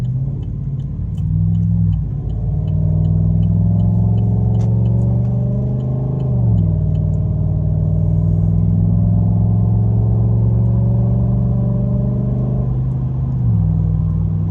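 A 2021 Chevrolet Silverado full-size truck with a 5.3 V8 drives steadily, its loud, deep engine drone holding even and shifting pitch at a couple of gear changes, with no voices over it.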